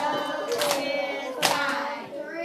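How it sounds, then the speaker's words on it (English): Students in a classroom clap out the syllables of a spoken word, a few sharp, distinct hand claps spaced apart against a close voice drawing out the word. "Then I also want you to clap out."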